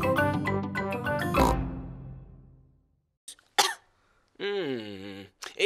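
A cartoon character in a French-dubbed Peppa Pig episode gives a few harsh coughs after a tinkling musical passage, followed by a short piggy grunt and a brief spoken line.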